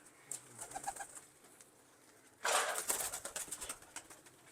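Teddy and Dub breed pigeons in a loft, soft cooing and bird calls at first, then a louder burst of cooing and rustling from several birds close by.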